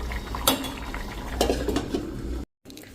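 Pots and steel utensils clatter in a home kitchen while daal is readied: sharp clinks and scraping metal knocks spread across a few seconds, then a brief silence before low kitchen noise resumes, with no talking.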